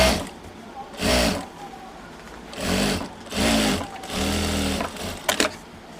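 A sewing machine stitches a folded blouse hemming strip in four short close bursts of whirring with quiet gaps between, ending in a few sharp clicks; a voice speaks in the pauses.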